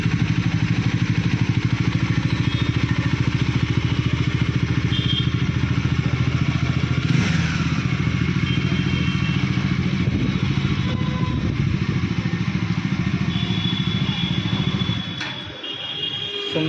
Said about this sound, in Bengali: সুন্দরভাবে বাইকটা পার্ক হয়ে গেল।